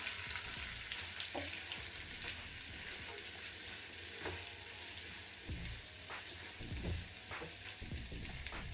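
Curry leaves and leftover spice paste frying in oil for a stuffed green chilli and brinjal curry, a steady broadband sizzle with occasional soft stirring clicks and scrapes, close and continuous throughout.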